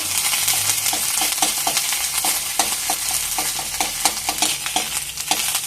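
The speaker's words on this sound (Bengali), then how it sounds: "আদাটাকে একটু নাড়াচাড়া করে নেব" Ginger paste frying in hot oil, stirred with a spatula that scrapes the pan in quick repeated strokes over a constant loud sizzle.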